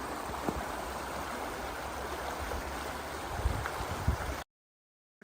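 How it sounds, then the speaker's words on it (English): Steady broadband rush of a stream flowing through Rouge National Urban Park, continuous and moderately loud for about four seconds with a few soft splashes near the end before cutting to silence. "maybe I'll be quiet for a second, hear the streaming water"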